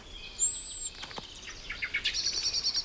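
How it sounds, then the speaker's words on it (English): A blackbird gives a sharp alarm call: a high whistle, then a rapid run of repeated chattering notes, fairly close in a quiet setting. "This blackbird has spotted our Janette and sounds the alarm."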